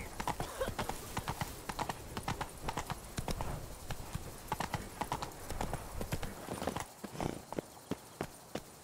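Roach the horse clip-clops along in The Witcher 3, a quick, regular beat of hoofsteps close by, with faint in-game voices now and then.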